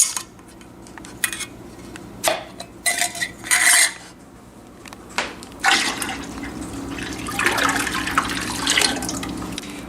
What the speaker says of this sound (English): I'm going to get the milk into these pans so we can start.